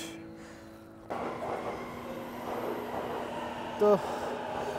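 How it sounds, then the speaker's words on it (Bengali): A Sobu Line rapid train arrives at a Tokyo station as a steady rumble that swells into a roar and holds, with a brief high squeal of wheels or brakes near the end. Voices are briefly heard. "এই যে চলে আসছে ট্রেন"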